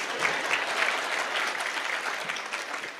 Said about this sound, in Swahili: Nipigeni makofi.